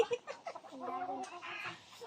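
Hen clucking in short, uneven bursts, fairly close, with other birds and a voice mixed in around it.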